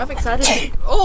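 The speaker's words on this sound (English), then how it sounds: "That's a grown man sneeze" A grown man's single sharp sneeze near the middle, close and loud against steady outdoor background noise, with people talking before and after it.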